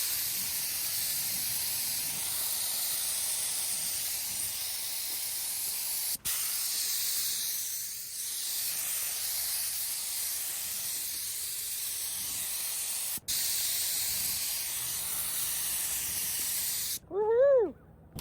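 A spray gun applies a coat of paint to car bodywork at home, giving a loud, steady hiss in three long bursts separated by brief cutoffs, ending with a short pause and a faint tonal sound.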